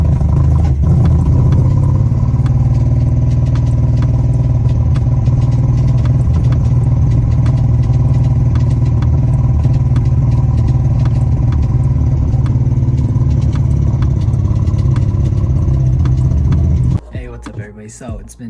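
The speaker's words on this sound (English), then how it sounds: "Clutch in. Just give it gas and go." A 1970s Datsun car with its engine running steadily and loud close by, sustained rumble with clattering, cutting off abruptly near the end; no clear pull-away surge is evident.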